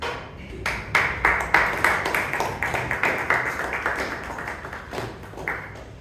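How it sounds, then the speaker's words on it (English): A small Toastmasters club meeting audience claps in a room, a sparse, uneven patter of individual hands close by, swelling and thinning over several seconds. "You guys can clap."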